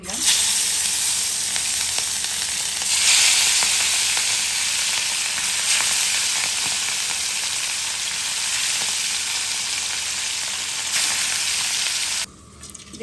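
Onion sizzles in hot oil in a pan while aloo begun ilish jhol, a hilsa fish curry with potato and eggplant, is being cooked. The frying makes a loud, close, continuous hiss with a few crackling surges, then drops away briefly near the end.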